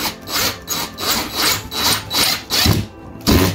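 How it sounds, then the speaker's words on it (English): Power drill drives a self-drilling screw into wood while hanging a plant holder hook, a series of about eight rhythmic grinding bursts, loud and close, with no talking. "So the drill, see how it self-drills in?"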